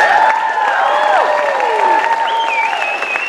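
An audience at the Miss Harvest Homecoming 2019 pageant applauds stage manager Crit Fisher, a steady wash of clapping with bright whistles sliding up and down over it, loud and close throughout.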